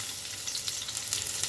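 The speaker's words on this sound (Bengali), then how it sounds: "পেঁয়াজটা একটু লাল লাল করে ভেজে নেব।" Chopped onion fries in hot white oil, a soft, even hiss of sizzling with faint crackles throughout, close and uninterrupted with no talking.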